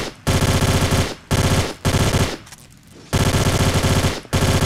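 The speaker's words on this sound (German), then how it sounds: "So, die MP5 ähnliche Waffe, die nicht MP5 heißt." Automatic bursts from an MP5-like submachine gun in Tomb Raider: The Angel of Darkness, loud and close, fired in about five rapid stretches separated by short pauses.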